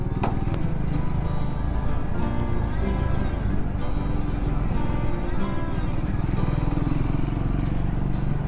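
A motorcycle rides along an open Meghalaya hill road, its engine a steady, close, unbroken drone with light wind noise throughout and no talk.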